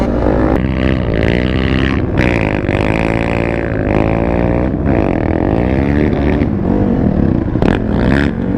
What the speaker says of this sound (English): Big 450 out here, and that two-stroke.